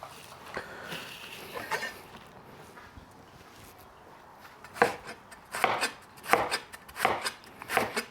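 A knife cuts an onion into thin slices on a cutting board while preparing beef chow fan. A few soft strokes come first, then a run of crisp, evenly spaced cuts close up.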